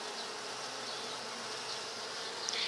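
Honeybees hum inside an opened hive during an inspection, a soft steady buzz with a swarm-like drone and the occasional nearer bee passing close.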